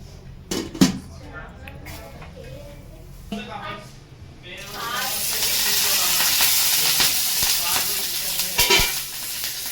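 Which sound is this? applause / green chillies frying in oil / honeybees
green chillies frying in oil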